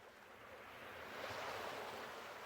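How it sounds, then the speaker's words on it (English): Small ocean waves roll steadily onto a quiet, remote beach, a continuous soft wash of surf with a gentle swell in loudness, no voices present. "Small waves roll in lazily, their rhythm steady as a heartbeat."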